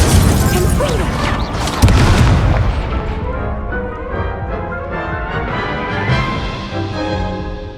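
The Incendio fire spell goes off in Hogwarts Legacy with a loud, close boom, then a roaring, crackling tail that slowly fades.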